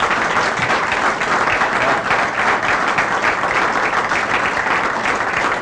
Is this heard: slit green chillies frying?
no